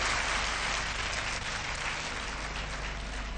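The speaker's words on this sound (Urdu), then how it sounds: "میں اسٹوڈنٹ سے کہوں گا کہ زوردار تالیاں بجائیں" Students applauding loudly at a speech event, a dense, steady wash of clapping held at full strength throughout, with no voices over it.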